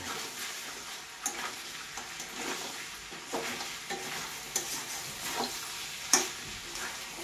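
Mutton head pieces stir-fry in a pan for mutton head curry, a soft continuous sizzle broken by irregular spatula scrapes and knocks, one sharper clink near the end, with no talking.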